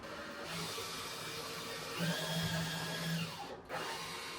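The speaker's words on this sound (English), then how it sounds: "Drill a hole with this first." Power drill whines steadily as it bores a hole into corrugated shipping container steel, motor pitch rising midway then briefly cutting out before resuming, close and alone.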